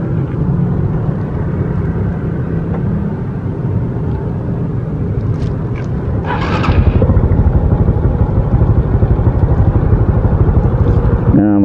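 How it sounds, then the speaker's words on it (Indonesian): A 15-year-old 2011 Honda Supra X 125 motorcycle engine idling close up, a steady low even rumble that grows slightly louder and rougher partway through as the revs rise. "seperti ini suara mesinnya setelah 15 tahun pemakaian masih halus"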